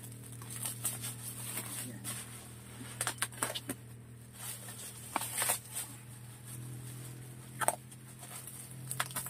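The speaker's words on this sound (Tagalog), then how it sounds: "Bubble wrap siya." Bubble wrap crinkles and pops in scattered bursts as a delivered package is opened indoors, with a steady low hum running underneath.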